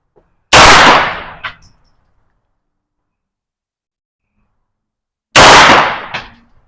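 Two sharp, loud gunshots from a PDW at an outdoor range, about five seconds apart, each followed by a brief echo and decay, with silence between them and no voices.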